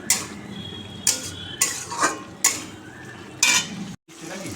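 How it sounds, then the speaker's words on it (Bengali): Spiced chhana (paneer) being sautéed with chana masala in a pan, heard as a series of distinct spoon scrapes and clatters against the metal about once a second, with a soft frying hiss underneath. "এবার এটা ভালো করে কষাবো"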